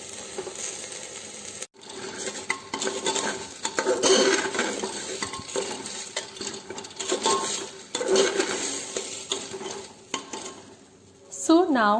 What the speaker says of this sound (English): So now we are giving it a quick mix